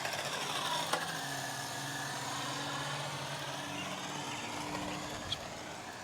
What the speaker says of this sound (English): I'm going to turn it to the middle speed. Oh yeah, you can hear the difference in the motor.